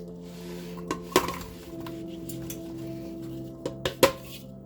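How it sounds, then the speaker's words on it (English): A spatula scrapes apple juices from a bowl into a pan for an apple crisp, producing a few clinks and knocks against the bowl over a quiet kitchen background, with no talking. "I scrape out all the juices with the spatula because it gave off some juice."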